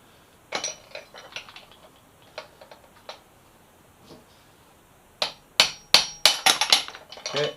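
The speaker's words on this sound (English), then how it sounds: "We can use our little puller tool again just to pop up the top piece." A puller tool working the top triple tree piece off a motorcycle gives sparse metallic taps and clicks, then a closer run of sharp, loud knocks and pops near the end.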